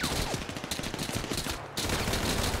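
Rapid automatic gunfire in the GTA 5 video game, Trevor Hulkbuster mod: a sustained burst of fast, evenly spaced shots, loud and close, continuing over a steady background.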